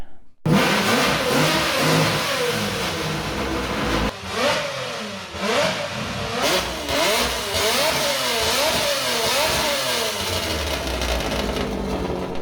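Exhaust of a V12 engine fitted with a changed collector revs hard, rising and falling in repeated throttle blips over a steady rumbling idle, loud and close throughout.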